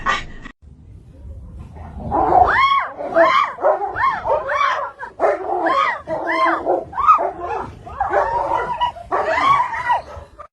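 A human voice imitates a dog, letting out a quick run of yappy, barking yelps in an uneven rhythm. The barks are close and loud, with short gaps between them.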